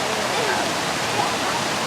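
Water from a fountain in a public square in Valencia runs and splashes in a steady, dense wash of noise, loud and close, with no pauses.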